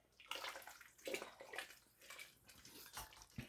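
Water shaken inside an emptied can of spaghetti sauce sloshes and rattles in short irregular bursts close by, fairly faint, with no talk.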